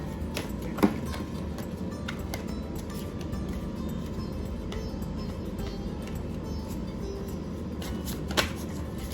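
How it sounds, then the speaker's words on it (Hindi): Tarot cards shuffled by hand: a soft, steady riffling rustle over faint room hum, with a couple of sharp taps as the deck is squared. "हम पहले कार्ड्स को शफल कर लेते हैं।"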